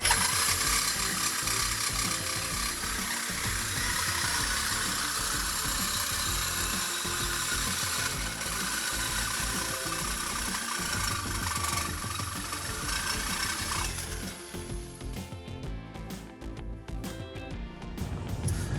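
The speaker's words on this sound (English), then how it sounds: "So we added a tool, Sawzall with a metal cutting blade. Cut the pipe." A Sawzall reciprocating saw fitted with a metal-cutting blade cuts through the exhaust pipe of a 2015-2021 Challenger 3.6L V6. The steady, rattling mechanical buzz runs close and continuously, easing off near the end.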